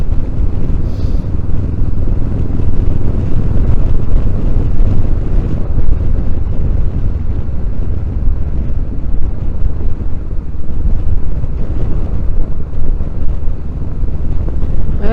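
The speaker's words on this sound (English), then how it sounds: "The wind now at 32 mile an hour, I can feel it." Heavy wind roar buffets the microphone during a ride on a 2023 Honda CB500X motorcycle in roughly 32 mph wind, a loud, constant low rumble with engine drone beneath and no pauses.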